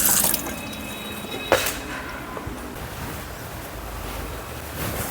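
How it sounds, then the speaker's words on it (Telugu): Water runs and splashes steadily at a bathroom sink during a face wash, with a continuous close rush broken by a brief louder splash, and no talking. "నేనైతే ఇక్కడ ఫేస్ వాష్ చేసుకుంటున్నాను"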